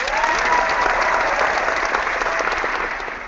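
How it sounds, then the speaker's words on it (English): Brief burst of applause, a dense, fairly loud patter of clapping that holds steady and starts to fade near the end. "You get applause for that"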